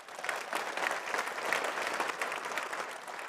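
A crowd at a political party's general election manifesto launch applauds with steady, dense clapping that holds at an even level for a few seconds, moderately loud and without talk.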